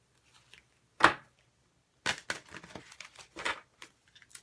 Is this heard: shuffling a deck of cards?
yes